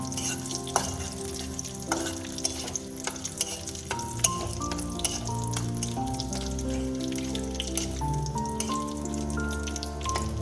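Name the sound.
whole cumin and bay leaves frying in hot oil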